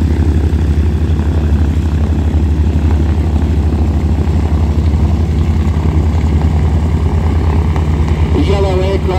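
A formation of vintage propeller training aircraft, one of them yellow, flies past at the Temora Aviation Museum airshow. A loud, steady engine drone holds throughout, and a voice talks over it.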